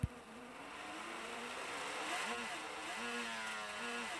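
An Arctic Cat snowmobile engine in a snowmobile racing video game whines faintly, its buzzing tone rising and falling as it revs, steady and alone.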